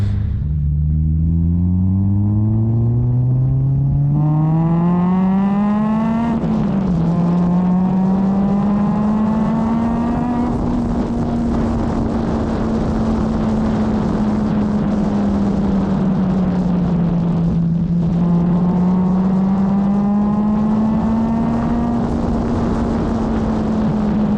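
A supercharged Honda Civic driving through a canyon, its engine note climbing steadily through the gears and then settling into a continuous cruising drone, loud and close with no talking.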